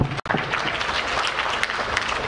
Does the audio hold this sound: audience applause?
yes